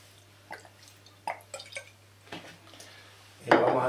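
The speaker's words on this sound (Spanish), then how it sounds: "Le vamos a echar un chorrito de vinagre." Vinegar is splashed onto seasoned roasted peppers, with a few soft drips and light clinks before a short, louder pouring splash at the end, close by.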